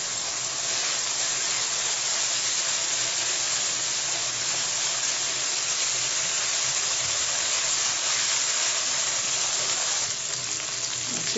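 Tomato, crushed ginger, garlic and green chilli fry in a pan, giving a continuous loud sizzle and hiss that stays steady and close for the whole stretch, with no talking.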